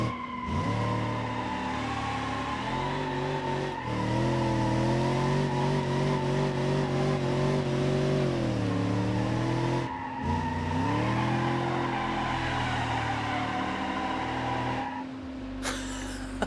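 A low-horsepower car in BeamNG.drive revs hard with sustained, wavering engine tones rising and falling, tires squealing as it skids through a burnout, then the engine cuts out abruptly near the end.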